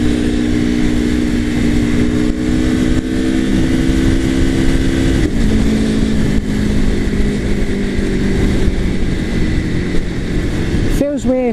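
An Aprilia Tuono Factory motorcycle engine drones loudly and steadily while riding, with a strong humming note whose pitch shifts slightly as the throttle changes. Wind rush rides underneath, and a brief sweeping whine appears near the end.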